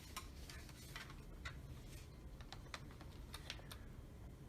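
Keys pressed on a keyboard while a handheld RG353P gaming device is used, a run of close, crisp clicks in an uneven rhythm over a quiet background with no speech.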